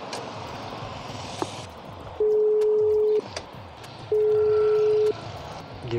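Phone ringback tone heard while calling a customer, two long steady beeps about a second each separated by a pause, over background road and street noise.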